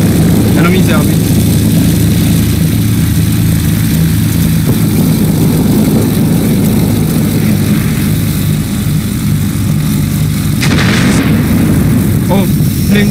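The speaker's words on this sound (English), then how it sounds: "Oh, planes above us." Warplane propeller engines drone steadily and loudly in World of Warplanes, a constant low roar filling the whole stretch, with brief louder whooshes as planes pass.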